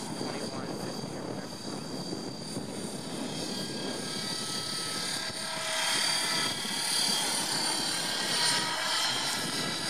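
A Rave Ballistic 635 RC helicopter flies in idle up mode, its rotor and motor whine steady at a moderate distance, swelling somewhat louder near the end amid light wind noise.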